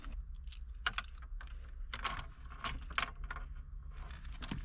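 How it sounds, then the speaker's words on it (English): Keys on a ring jangle and clink in a game about an abandoned sports car, several bright irregular rattling bursts up close over a quiet low hum. "Good thing the keys are here."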